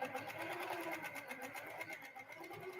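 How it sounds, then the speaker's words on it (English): A sewing machine runs steadily through free motion quilting on a small quilt sandwich, a continuous fast mechanical stitching whir close by, with no talk over it. "And so I'm going to just start stitching."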